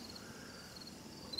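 Crickets chirp faintly and steadily around a quiet homestead, a thin continuous high trill with no voices.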